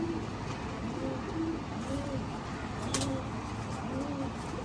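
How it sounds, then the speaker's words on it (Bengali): Plump pigeons in a loft coo in soft repeated phrases, low and rounded, over steady background noise with a faint voice now and then. "কত মোটা মোটা পাকের কবুতর দেখেন, কত মোটা পাকের কবুতর।"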